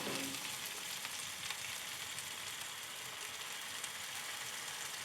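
Spatchcocked BBQ chicken sizzling on a grill while it is sauced, a steady, hissing crackle throughout, fairly faint and with no talking.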